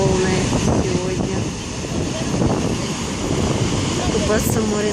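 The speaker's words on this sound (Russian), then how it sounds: "Вот такие волны сегодня." Stormy sea surf pounds the beach at Lazarevskoye, a loud continuous roar of breaking waves mixed with gusting wind buffeting the microphone throughout.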